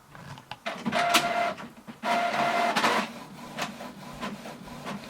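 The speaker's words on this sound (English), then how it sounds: "So you can see it has started to print now." Canon PIXMA TS5320 inkjet printer printing, with mechanical whirring and motor runs, a couple of rising tonal bursts, and clicking paper-feed sounds in a quiet room, close and fairly loud.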